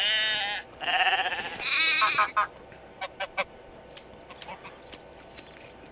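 Sheep in the farming game Medieval Dynasty bleat several times in quick overlapping calls, loud and close, then fall quiet. A few short, faint clicks and taps follow.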